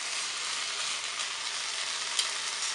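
Beef with yellow, green and red vegetables stir frying in a pan, a steady close hiss of sizzling that holds evenly throughout with no talk over it.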